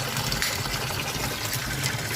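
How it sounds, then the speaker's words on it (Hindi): Water gushing steadily through a pipe into a washing machine at home for laundry, a continuous broadband rush that stays loud and even throughout, with no talk. "मैं इस पाइप को मशीन के पाइप से कनेक्ट कर दूँगी, ताकि मशीन में पानी भर जाए"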